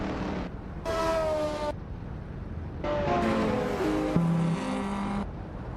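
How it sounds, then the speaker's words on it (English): A 1998 Mazda RX-7 race car engine in a racing video game, revving in sustained rising and falling whines with gear shifts, loud and close, with brief gaps between pulls and no talking. "Gina Jones is driving a 1998 Mazda RX-7"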